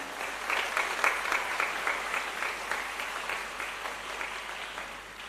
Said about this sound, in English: Let us give a big clap to our Honorable Chancellor